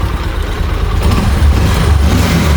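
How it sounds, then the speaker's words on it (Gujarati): An old tractor engine runs loud and close in a low, steady idle rumble with no voices. "હા જો એન્જિન અત્યારે તરાટક છે"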